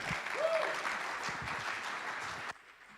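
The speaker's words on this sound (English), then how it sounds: "Give him a round of applause." An audience at a live science talk and music event claps loudly. The applause is dense and sustained, then stops abruptly after about two and a half seconds.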